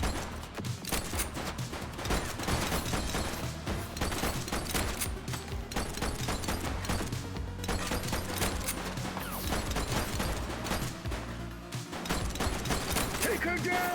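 Sustained, loud gunfire in The Precinct video game: dense, rapid shots and bursts crackle almost continuously, with voices shouting now and then among the firing.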